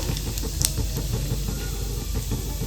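Whole cumin seeds sizzle in very hot oil while a chili pickle is being made, a dense, continuous, close hiss and crackle with small popping spatters throughout, and no one speaking.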